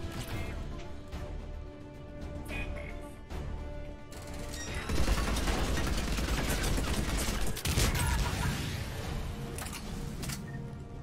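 Sustained gunfire in the shooter game Mass Effect 3 comes as rapid, dense bursts and impacts over a busy background, loud and continuous for several seconds, with faint voices underneath.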